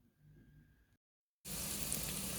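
Beef patties frying in a pan, a loud steady hiss and crackle of sizzling starting suddenly after a brief silence, preceded by quiet low kitchen hum.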